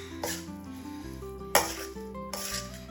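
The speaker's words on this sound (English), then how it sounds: "Give it one more mix." Sweet corn salad gets tossed in a bowl, with utensils knocking and clinking against the dish in a few distinct strikes over a soft, tonal background.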